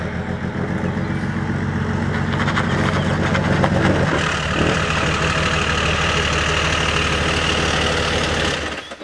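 A company car's engine idling close by, a steady low rumble with a rhythmic knocking pulse that holds for about nine seconds, then cuts off.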